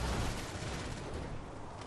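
Steady, dense gunfire from a vehicle's mounted guns in a video game, a continuous loud rattle with no gaps and no voices.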